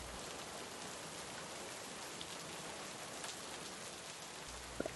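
Steady rain falls in a dense, even hiss of drops on surfaces, constant and moderately quiet throughout, with a faint sharper tap near the end and no voices.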